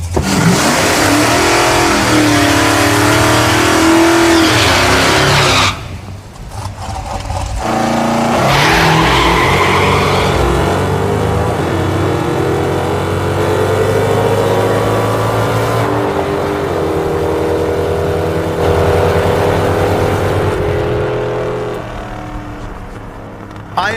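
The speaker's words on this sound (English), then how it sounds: "This thing is leaving hard on the nitrous, but unfortunately, it's also spinning the tires and slowing me down." A 1975 AMC Gremlin V8 on nitrous launches hard with a loud, sustained engine roar and spinning tires, the revs dropping briefly before climbing again in a long, steady pull.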